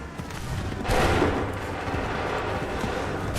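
A ragged volley of musket fire from massed soldiers in Assassin's Creed III, one loud burst of overlapping shots followed by a sustained rumbling wash of battle noise.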